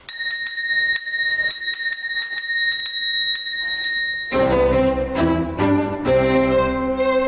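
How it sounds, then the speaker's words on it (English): Servant call bells in the Merchant's House Museum, a historic home, ring in a quick series of bright, sustained metallic tones, each a slightly different pitch, loud and close with no talk. "Each bell had a different tone, so the servant would know which room was calling."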